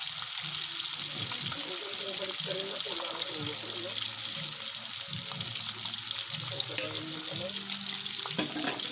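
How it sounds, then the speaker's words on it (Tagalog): Constant loud sizzling of milkfish frying in hot oil, a dense crackling hiss, with muffled voices faintly underneath. "Pag ganyan na may takip, nagpiprito, tumutunog"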